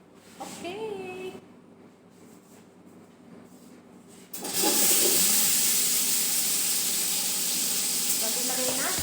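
Chicken sautéing in a hot pan, starting with quiet speech and low kitchen noise before a loud, steady, broadband sizzle bursts in and holds, with faint talk underneath.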